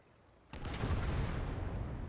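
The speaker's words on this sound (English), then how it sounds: "He's just shooting the auto cannon and not the main gun itself." A tank's autocannon fires in the Warhammer 40K battle game Indomitus 40K Conquest, opening with a sharp blast that then holds as a loud, dense rumble of sustained gunfire.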